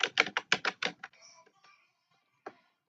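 Computer keyboard typing of a short command, a quick run of about eight crisp close keystrokes followed by faint clatter and quiet, then one more isolated key press.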